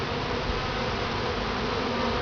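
Dense, continuous buzzing of many honey bees at a top bar hive, steady and close, with no pauses or voices.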